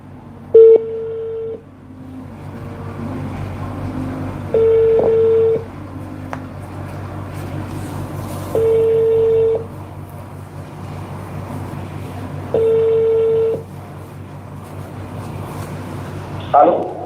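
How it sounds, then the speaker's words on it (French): Call-connecting tones on a phone line to an Orange number ring out as four evenly spaced, steady beeps of about a second each, separated by pauses, over a faint background hum. "We are connecting your call."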